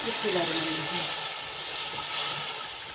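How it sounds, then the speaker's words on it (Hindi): Water pours into a pan of cooked, oil-separated masala for kofta gravy, a steady rushing splash at moderate volume that eases slightly toward the end. "अब हम इसमें थोड़ा सा ग्रेवी के लिए पानी शामिल करेंगे।"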